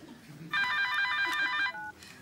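A telephone rings late at night, one steady electronic trill that comes in after a quiet, low background and then briefly continues at a lower level as it cuts out, with no talk over it.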